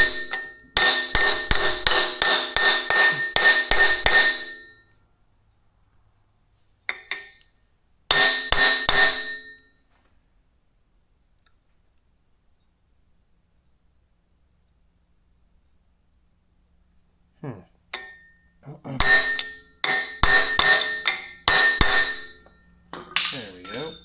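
Hammer blows tapping on a Cummins engine part in a workshop, delivered in three bursts of rapid, ringing metallic strikes with quiet gaps between them, close and loud.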